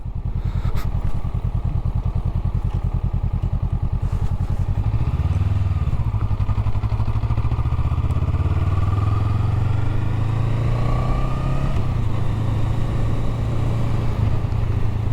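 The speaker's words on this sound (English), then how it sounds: "the bike still sounds good with the stock exhaust" Honda Rebel 500 motorcycle running on its stock exhaust, a steady loud low engine rumble held close for the whole stretch, with revs swelling and easing a few times and no talking.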